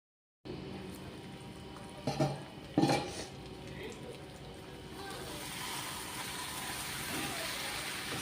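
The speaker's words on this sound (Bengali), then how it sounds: "আঁচটা কমিয়ে আমি মিনিট খানেকের জন্য ঢাকা দিচ্ছি।" A metal lid clanks onto a cooking pan twice in quick succession while cauliflower curry cooks, sharp clatters over a steady sizzling hiss that continues afterward.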